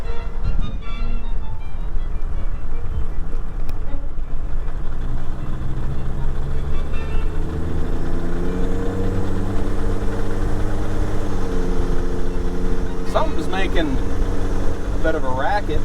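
A Volvo 740 with the D24t turbo diesel engine runs under load while shifting through the forward gears, a loud, steady rattling drone that sweeps up and down in pitch with the engine revs. Brief voice sounds come through over it.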